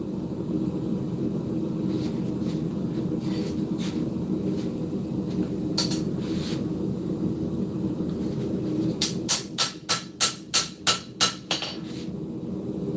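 A metal tip is hammered on an anvil: a few scattered, lighter taps, then a quick run of about seven sharp, ringing strikes, all over a steady background hum.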